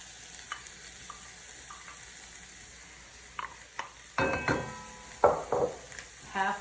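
Food frying in a pan while being stirred, a quiet sizzle at first, then louder bursts of scraping and clattering as the spoon moves the food around, close by.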